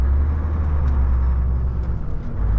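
Volvo FH 540 truck rolling across the 12 km ice crossing between Yakutsk and Nizhny Bestyakh, heard from inside as a heavy, steady low engine rumble and drone with faint rattles, loud and unbroken.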